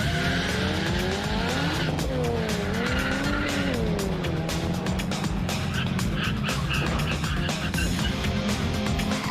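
A car brakes hard from over 100 km/h and its tires lock up, giving a loud continuous tire squeal over engine noise for the whole stretch.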